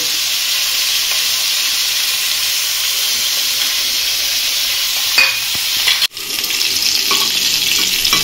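Jackfruit pieces frying in hot oil in a kadai over a full flame, giving a loud, steady sizzle and hiss that runs throughout, with a brief clatter and a short dip near the end, and no talk.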